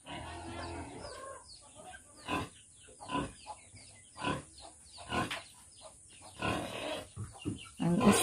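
A pig on a rural provincial farm grunts in a series of loud, rough bursts spread across the clip, with chickens clucking and calling among them nearby.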